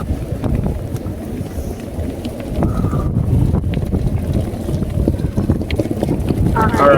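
Strong wind on the water near a shore buffets the microphone with heavy, gusting rumble, sustained and close throughout, with voices talking intermittently underneath.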